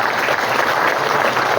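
An audience at a Hindu temple gathering for Kuningan at Pura Prabusati claps loudly and continuously, a close, dense wash of applause filling the brief moment without pause.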